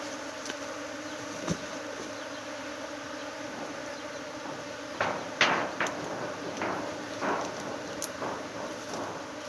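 A swarm of bees buzzes steadily around a hive in Uganda, a faint continuous drone broken by occasional knocks and wooden bumps nearby.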